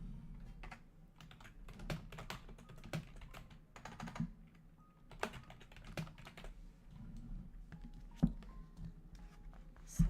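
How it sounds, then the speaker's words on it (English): Keys clatter on a computer keyboard in irregular bursts and short pauses, close and fairly quiet, with no voices. "let me type this one up"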